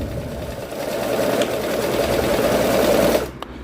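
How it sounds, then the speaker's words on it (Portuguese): Sewing machine running a straight stitch on elastic with a short stitch length, a steady close mechanical whir for about three seconds before stopping, followed by a faint click. "E aqui você vai simplesmente, ó, fazer costura reta."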